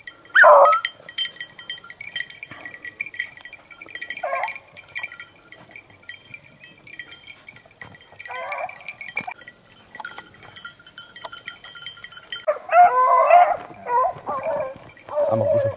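Beagle hounds barking during hunting training outdoors, with sharp yelps and bays coming in scattered bursts, some close and some farther off, over quiet background noise.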